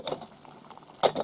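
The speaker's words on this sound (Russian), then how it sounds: "Чайник уже, второй чайник закипает." A kettle bubbles over a campfire in a taiga forest, a soft low boiling hiss with a few sharper pops and splutters bursting near the end, close by and with no talking.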